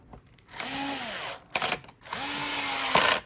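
A power drill or screw gun whines in two bursts while servicing a Bissell Pet Hair Eraser turbo brush, spinning up and winding down with a brief mechanical rattle between, close and moderately loud.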